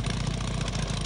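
A handmade wooden motorcycle's engine idles steadily at close range, a continuous low, even chug with no break.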